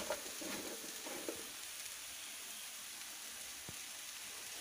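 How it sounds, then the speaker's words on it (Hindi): Masala with turmeric and salt frying in a pan for stuffed bitter gourd, a faint, steady sizzle with a few soft stirring scrapes, heard alone at low volume. "इसे जब तक फ्राई करूँगी जब तक ये रेड ना हो जाए, साइड साइड से चिपकना मसाला बंद ना हो जाए"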